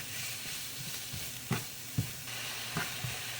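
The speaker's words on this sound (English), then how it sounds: "And just give it a stir. And I have it on medium-high heat." A mixture stirred in a pan over medium-high heat sizzles steadily, with a few distinct scraping knocks of the utensil spaced about half a second apart.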